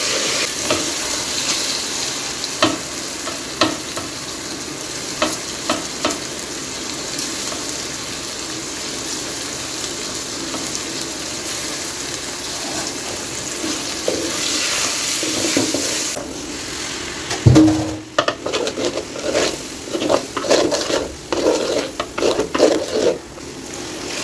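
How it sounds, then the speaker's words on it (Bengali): Pulao with peas and carrots sizzles and fries in a pot while a spoon stirs it, a loud steady hiss with scraping strokes that grow busier near the end, close and without talk. "আজকে আমি রান্না করতেছি পোলাও, মটরশুঁটি আর গাজর দিয়ে তোমার পোলাও রান্না করবো।"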